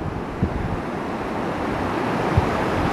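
Ocean surf rolling onto a beach as the tide comes in, a steady close wash of waves mixed with wind buffeting the microphone and a couple of faint thumps.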